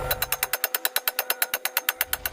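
A hammer strikes metal in a rapid, even volley of about twenty sharp, ringing blows over two seconds, loud and close, each one bright and metallic.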